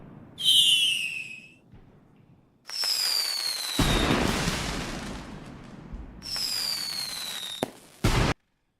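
Stream-alert fireworks sound effect: three whistling rockets rise and burst, the first short and clear, the next two followed by loud crackling booms that fill several seconds before cutting off abruptly.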